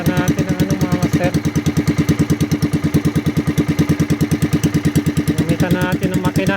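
A fishing boat's engine runs loud and close with a fast, steady thumping pulse throughout, a mid-pitched putter that keeps an even rhythm from start to finish.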